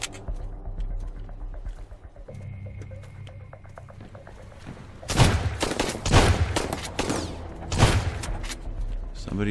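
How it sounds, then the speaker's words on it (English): A shotgun fires in the survival game Sunkenland, starting after a quieter stretch of background game noise with a rapid cluster of loud, sharp blasts followed by a few more shots. "Shotgun."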